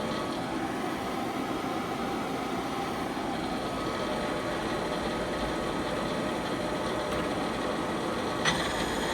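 A 2014 Okuma Genos L300E-MY CNC lathe spindle runs steadily at 2,000 RPM, giving a continuous broadband whir and hiss with a faint tonal hum, even in level, with one small click near the end.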